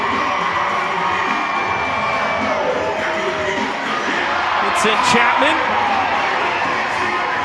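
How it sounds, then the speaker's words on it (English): At a Savannah Bananas baseball game in Grayson Stadium, a full-capacity crowd roars and cheers steadily, with whoops and shouts rising through the noise while a voice talks over it. "The crowd here in Grayson Stadium has been especially responsive tonight."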